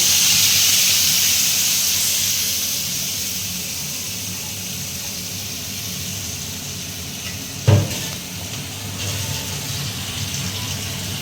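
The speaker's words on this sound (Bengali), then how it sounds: "পেঁয়াজ আর টমেটোটাকে ভাজা ভাজা হচ্ছে" Onion and tomato paste sizzles in hot oil in a pan, a steady close hiss with one brief sharp clatter partway through.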